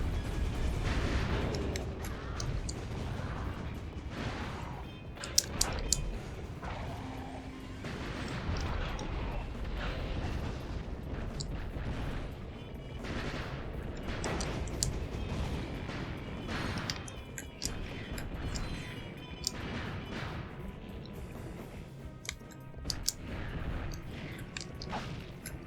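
Repeated weapon fire while fighting the mutated protopet in Ratchet & Clank 2, a dense ongoing stream of shots and booms under music and talk.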